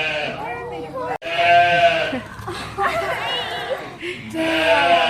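Newborn goats at a rancho in Mexico bleat in a string of high, wavering cries, close and loud, mixed with people chatting and chuckling around them.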